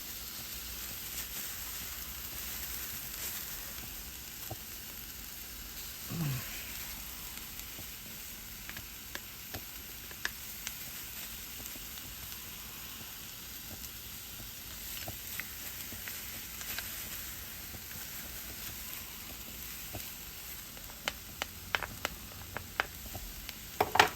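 Garlic is added to a pan with corn for a vegan green chile stew and sizzles with a faint, steady hiss, broken by occasional clicks and utensil taps, growing busier toward the end, with no speech.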